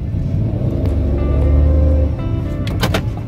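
2015 Daihatsu Ayla Type M pulling away in first gear, a low engine rumble that swells near the middle and then settles, heard from inside the cabin.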